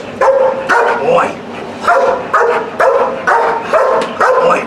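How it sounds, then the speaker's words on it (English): A dog barks in repeated loud, close bursts, about six sharp barks in a steady rhythm during a training session, with a person's voice mixed in between. "you see him barking at you"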